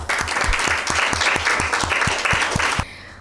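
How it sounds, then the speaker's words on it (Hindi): A quiz show audience bursting into loud, dense applause for both competing teams, steady rhythmic clapping that stops abruptly near the end. "आप दोनों टीमों के लिए भरपूर तालियां"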